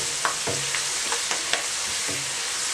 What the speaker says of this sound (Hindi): उसमें प्याज डालें और इसको हल्का बादामी होने तक फ्राई कर लें।